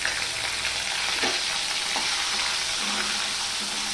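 Ginger paste hitting hot oil in a pan, with a dense, loud, continuous sizzle and spatter and a few faint clinks of stirring, heard close up for a few seconds.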